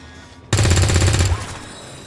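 Gunfire in XCOM 2: War of the Chosen, a loud close burst of rapid automatic shots that starts abruptly after a quiet moment and rattles for under a second before trailing off into a fading tail.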